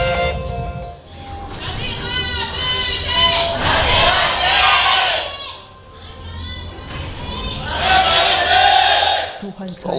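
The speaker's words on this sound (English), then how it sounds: "A lot of cheers for Anarchy." A large esports arena crowd cheers and roars at a League of Legends LCK Summer 2015 match, two long swelling waves of loud shouting and screaming with a lull between them.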